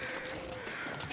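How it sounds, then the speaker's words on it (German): Crows cawing in the survival video game The Long Dark, a steady caw-like tone held over a windy outdoor ambience at moderate loudness, with no one talking. "Wenn ich Krähen höre, muss ich auch immer gucken, wo die sind"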